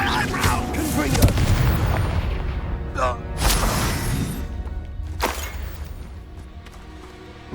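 An explosive Confringo spell in the Hogwarts Legacy game bursts loud and close, a heavy boom followed by cracking impacts and a second blast, with game effects around them and no talk over the blasts.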